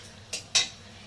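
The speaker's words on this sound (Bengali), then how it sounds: "আমি ঢাকনাটা আরেকবার খুলছি।" A metal lid comes off a cooking pot with two quick clinks close by, the second louder, while Bengali-style fish and eggplant curry cooks in mustard; no voices.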